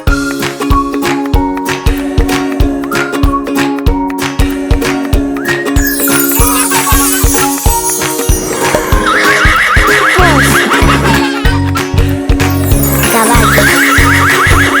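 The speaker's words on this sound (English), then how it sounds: "Caballo." A horse neighs and whinnies loudly and repeatedly against steady background music, the calls close and prominent through most of the stretch.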